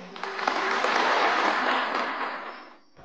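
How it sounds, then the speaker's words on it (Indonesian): An audience applauding a minister at a public address, a broad wash of clapping that swells, holds steadily and then tapers off toward the end. "Bu Menteri beri tepuk tangan dong"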